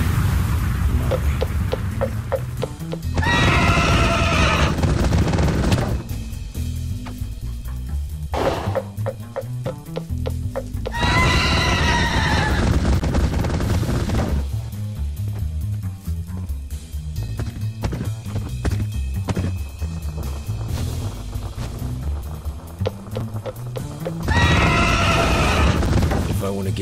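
Demon horse in a video game whinnying loudly in three separate bursts, with clip-clopping hooves and heavy thuds between them and a low rumbling backdrop.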